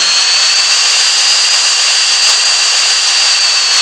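The Hydra jet in GTA San Andreas on Android gives a loud, steady roar with a high whine that runs without a break, and no voices are heard.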